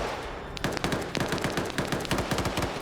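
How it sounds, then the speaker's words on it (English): Rapid gunfire rattles through a multiplayer video game battle, a quiet opening giving way at once to dense, uneven bursts of sharp shots layered close together, continuing steadily to the end. "Lots of gunfire happening all across this AO"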